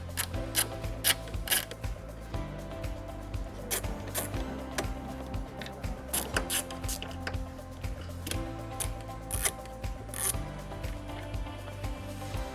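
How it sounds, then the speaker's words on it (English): A ratchet with an 8mm socket backs out screws at the tail lights of a 2019 Honda Fit, giving close, quiet runs of rapid clicking and ticking with short pauses between strokes. "Using an 8mm socket, we're going to remove 2 screws that are located at the tail lights."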